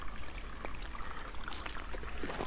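Babbling brook on a Colorado property, water trickling and pouring in a soft continuous burble with small splashes, faint and close.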